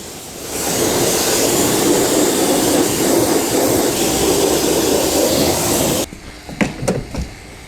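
A pressure washer rinses a BMW Z4M during a full wash, giving a loud, steady hissing spray for about six seconds before cutting off, leaving a few dripping and handling sounds.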